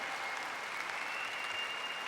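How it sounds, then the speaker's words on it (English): A commencement audience applauds the graduating class, with steady, dense clapping from a large crowd spread evenly across the whole stretch at a moderate distance. "give them a round of applause."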